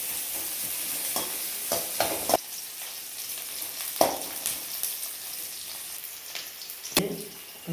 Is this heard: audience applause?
no